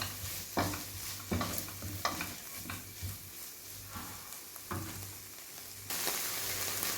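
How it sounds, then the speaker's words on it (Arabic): Mushrooms with chermoula sauté in a pan, a soft close sizzle broken by repeated scraping stirs, quiet overall and without speech. "كنضيف معلقه ديال الشرموله ونشحروا هذا الفطر مزيان"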